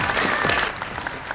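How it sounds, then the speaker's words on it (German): An audience at a jewellery presentation applauds a woman named Ludmilla; a warm, continuous crowd clapping, moderately loud and close, steady across the moment with a faint voice briefly audible. "Einen herzlichen Applaus für unsere Ludmilla."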